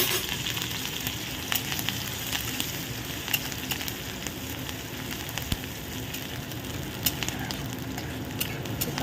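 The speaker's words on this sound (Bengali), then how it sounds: "তো দেখো তেলটা গরম হয়ে গেছে, এখন আমি এর মধ্যে দিয়ে দিচ্ছি কাঁচা লঙ্কা আর রসুন কুচোনো" Chopped green chillies and garlic fry in hot oil with a steady, close sizzle and scattered sharp crackles and pops, continuous for the whole stretch without any talking.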